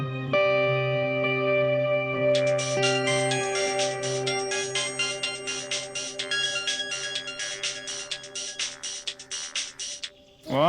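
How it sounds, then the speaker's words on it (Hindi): A phone ringtone plays for an outgoing call, a loud, steady electronic tone that switches partway into a bright, rapidly pulsing ring and repeats alone with no talk. "रुको, हम गोपी को फोन करते हैं।"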